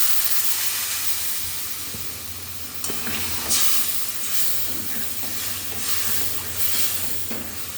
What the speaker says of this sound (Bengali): কষানো হয়ে গেছে, এবার এবার জল দিয়ে দিচ্ছি।